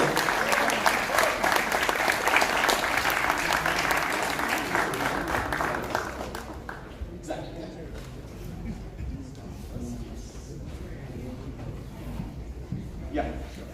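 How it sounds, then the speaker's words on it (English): Audience applause at an Indian Student Association event, a steady crowd clapping loudly for about six seconds before it fades into quieter room noise and scattered light claps. "Round of applause."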